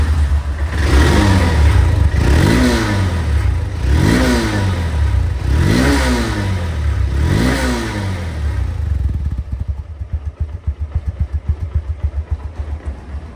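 A second-hand Bangladeshi motorcycle with double disc and CBS brakes runs close by, revving in four strong rising bursts before settling into a steady, lumpy idle.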